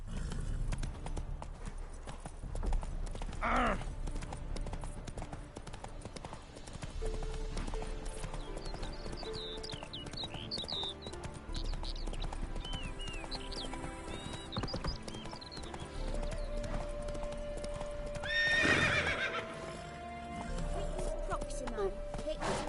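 Roach, Geralt's horse in The Witcher 3, clip-clopping steadily with two loud neighs, one early and one near the end, under game music and talking voices.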